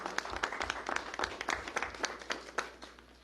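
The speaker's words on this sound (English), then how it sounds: "Clap." An audience at a school board of education meeting claps in a brief, scattered round of applause, moderately distant and fairly soft.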